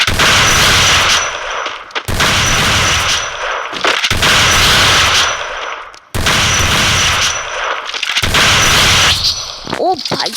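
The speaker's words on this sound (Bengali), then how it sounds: "টু শুটার শটগান দিয়ে মাইর খাবে।" Shotgun gunfire in the Free Fire mobile game, heavy, loud blasts in sustained bursts roughly every two seconds, nearly continuous and close, with a short tail at the end.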